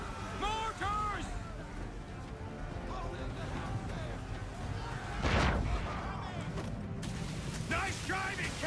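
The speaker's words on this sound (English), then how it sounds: "Mortars!" Mortar fire booms in Assassin's Creed III during a naval battle, a deep blast swelling midway over a constant rumble of sea and ship noise, while characters shout over the action.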